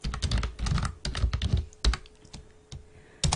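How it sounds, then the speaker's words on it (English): Rapid clicky typing on a loud computer keyboard, bursts of close keystrokes with short pauses and no talk. "Really need to get a quiet keyboard,"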